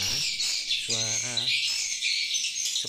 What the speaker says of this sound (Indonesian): speaker untuk memanggil burung walet itu sangat nyaring sekali